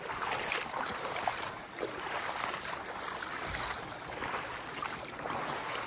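A stream flows steadily nearby in rainy hills at Salalah, Oman, with a soft continuous rushing, faint and even throughout, no voices.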